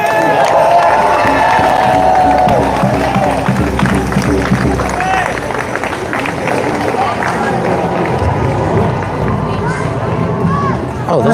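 Crowd cheering at an outdoor No Kings Day rally in Harrisburg, Pennsylvania, a dense roar of many voices and shouts that stays loud throughout, with someone speaking over it.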